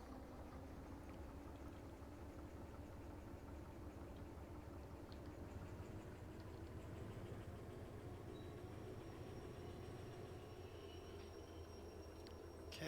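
Locomotive in the Derail Valley train game pulling away after its brakes release, a steady low engine rumble and rolling drone running continuously with faint higher squeals, no talk over it.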